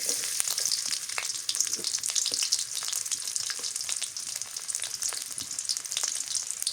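Chopped onions hit hot oil in a pan with fried fish, giving a dense, steady sizzle with crackling pops throughout, close and loud with no talk.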